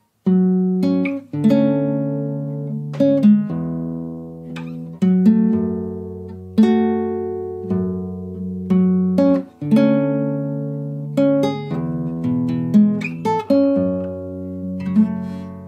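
A guitar plays a melody of plucked notes over ringing open strings, each phrase starting with a clear attack and fading before the next.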